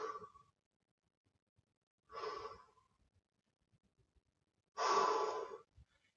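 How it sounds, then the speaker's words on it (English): Heavy, audible breaths taken during a plank in a full-body workout, three separate exhales spaced a couple of seconds apart, close and clear against silence, the last one longest and strongest. "And I hope you can hear me breathing,"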